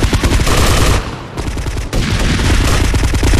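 Rapid automatic gunfire in GTA Vice City Stories, a loud sustained fusillade of overlapping shots that briefly drops out around the one-second mark before resuming just as dense.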